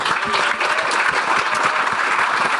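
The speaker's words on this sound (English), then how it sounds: "Please give a round of applause for Eileen." Loud, sustained applause from a large crowd at a political panel event, dense clapping filling the whole stretch without a break.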